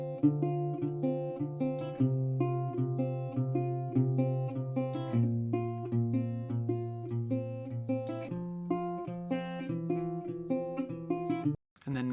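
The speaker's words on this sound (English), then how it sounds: "let's take a listen at this acoustic riff I recorded on a resonator" An acoustic riff on a resonator guitar, recorded through an Audient interface, rings out as a repeating pattern of plucked metallic notes over a low bass figure, then stops abruptly near the end.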